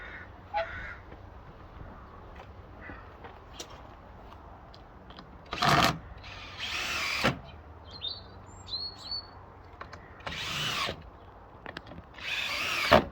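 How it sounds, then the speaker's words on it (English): A power drill drives screws outdoors while a washing line is put up, sounding in several short whirring bursts with pauses between them, as crows caw and small birds chirp in the background. "So I'm going to drive all these screws"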